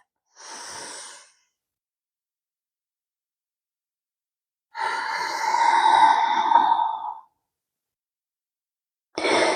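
Slow breaths during a yoga stretch: one short soft exhale, a long pause, then a fuller, longer breathy exhale lasting about two seconds, and the start of another breath at the end, all close and without talk.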